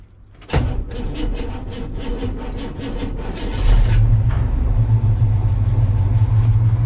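A car with a fault in the bottom end of its engine is started without throttle: a sharp click, then several seconds of rhythmic cranking before the engine catches into a loud, steady, rumbling idle, close to the microphone.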